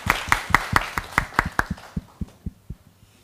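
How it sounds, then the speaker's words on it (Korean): At a talk concert event, a small audience claps in a short burst of distinct claps that slows and fades within about three seconds, with no talking over it. "박수로 청해드리겠습니다."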